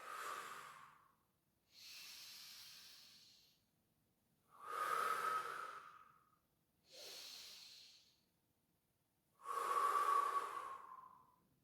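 Slow, deep yoga breaths close to the mic, five long airy inhales and exhales in a steady rhythm with short silences between them.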